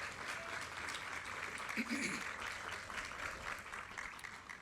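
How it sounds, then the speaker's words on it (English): A crowd applauds steadily at an outdoor bridge sign unveiling ceremony, a dense, even wash of clapping with some voices and a brief cheer partway through. "let's give them a nice round of applause"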